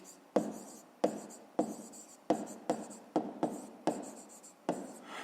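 Pen strokes on paper during a fifth-grade maths exercise, a series of about ten sharp scratching strokes in quick irregular bursts, close and fairly quiet, with no talking.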